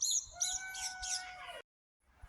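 Backyard chickens cluck and call in a quick tonal run lasting over a second, fairly faint, followed by near silence and a soft trailing rustle.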